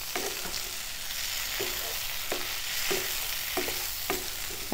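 A spoon stirs an eggplant and cowpea curry in a pan, giving a steady soft sizzle with periodic scraping strokes about once a second, close up and with no talking.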